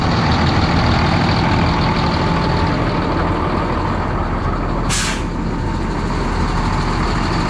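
A farm truck engine runs at a loud, steady idle from close by, a continuous heavy rumble with a short hiss burst midway, like an air brake release, and no voices.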